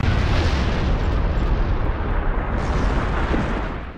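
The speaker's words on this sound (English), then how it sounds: "The battleship's been destroyed." A battleship blows up in the Star Trek Online video game, a sustained loud roaring explosion rumble with dense crackling debris that fades slightly toward the end.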